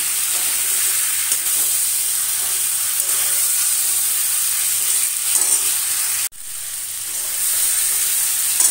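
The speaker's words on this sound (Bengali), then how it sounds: "মাছগুলো দিয়ে দিলাম এর মধ্যে কষিয়ে নেব মশলার সাথে" Fish pieces sautéing with spices in a hot pan give a loud, steady sizzle and hiss, broken briefly by a sharp drop as the pan is shifted, then the frying resumes.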